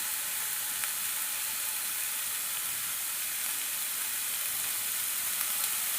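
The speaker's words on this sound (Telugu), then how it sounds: "లో ఫ్లేమ్లో పెట్టుకుని టమాటాలు అనేవి మగ్గించుకోవాలి" Tomatoes and green chillies simmer in a pan over a low flame, giving a steady, soft sizzle with faint bubbling that holds evenly throughout, close by and alone with no talk.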